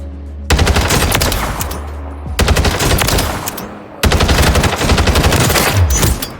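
Rapid automatic gunfire from a meta weapon in the shooter game Warzone 3, loud and close, in three sustained bursts with short pauses between them.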